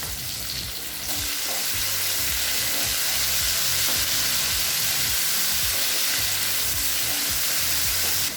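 Tomato dropped into hot oil for okra tamarind curry: a loud, dense sizzle swells up after a brief quieter moment and holds steady, with faint stirring scrapes beneath, no voices.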